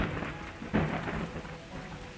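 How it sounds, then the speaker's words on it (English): Steady rain hisses over a low rumble of thunder, with one heavier crack partway through, a continuous stormy wash with no voices. "Then rains fall."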